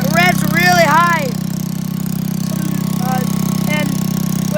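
A small tractor engine with a broken throttle, running at a high steady rev as a loud constant drone, while a person talks over it in short bursts.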